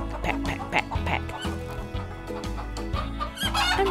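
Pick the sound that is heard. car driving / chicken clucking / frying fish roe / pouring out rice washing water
chicken clucking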